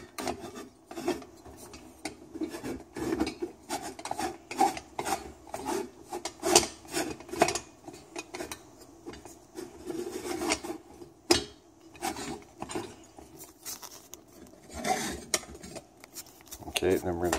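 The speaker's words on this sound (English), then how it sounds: "This is a herb grinder. This is all you need just to make the cup of coffee." A hand-turned herb grinder crushes coffee beans, giving off close, irregular rasping and scraping bursts that stop and start over several seconds.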